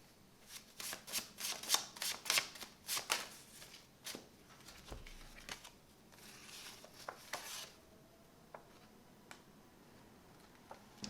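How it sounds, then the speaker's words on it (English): Tarot cards are shuffled in a quiet room, a quick burst of crisp riffling flicks at first, then slowing into sparse, soft card snaps and slides, close to the microphone with no talking. "I also kind of want to pull one of these cards too."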